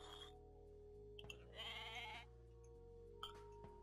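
Sheep bleat in the video game Age of Mythology, several short bleats spread across a few seconds over a steady game music and ambient drone, with no talking.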